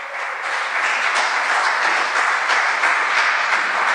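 A church congregation claps together to welcome a guest speaker, a dense, steady wash of hand claps that fills the whole stretch at a fairly loud, even level with no talk over it.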